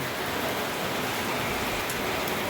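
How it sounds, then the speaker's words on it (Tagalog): Rain pouring down outdoors near a bakery, a dense, loud, even hiss of falling water that fills the whole span with no voices. "nabot ako ng ulan"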